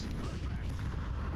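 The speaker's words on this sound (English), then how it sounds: "Throw in a flashbang." A flashbang grenade in the CS2 game goes off as a dense, booming burst that fills the short moment, heavy and rumbling, with voice chatter mixed in.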